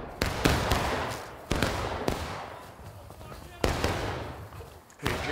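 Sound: gunfire at Civil War battle reenactment

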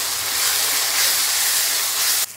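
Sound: ginger-garlic paste and masala frying in a pan for gobi dal

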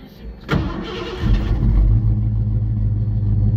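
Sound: 1989 Mazda B2200 with 302 engine cold starting

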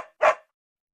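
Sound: dog barking

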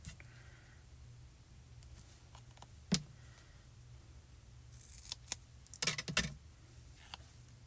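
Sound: scissors cutting a piece of foam tape

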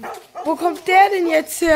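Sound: cartoon dog barking

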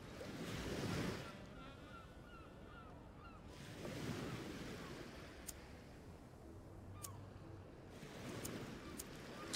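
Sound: wind blowing

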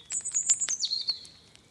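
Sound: thrushes and cuckoos singing

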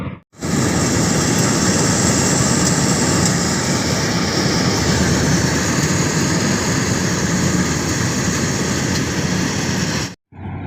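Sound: harvesting machine cutting paddy rice

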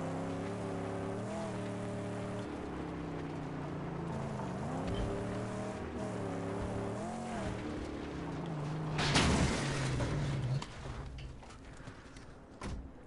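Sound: car driving and tire squeal in Mad Max video game

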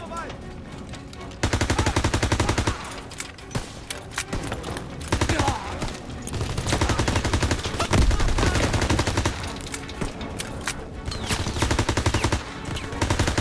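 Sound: MP40 gunfire in the video game Call of Duty WWII

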